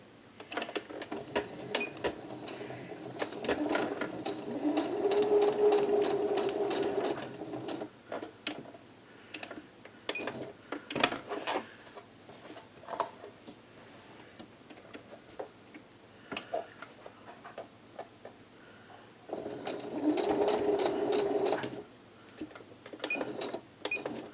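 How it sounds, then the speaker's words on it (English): A sewing machine stitches a blouse sleeve in bursts of rapid, even mechanical ticking, two longer runs separated by slower, intermittent clicks and handling sounds, close and moderately loud. "Don't forget to put a stay stitch in at the beginning and end."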